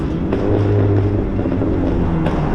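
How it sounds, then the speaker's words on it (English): A continuous low engine drone with a rough rumble, steady and fairly loud, like a car's loud exhaust revving nearby on a city street. "Oh, and loud cars."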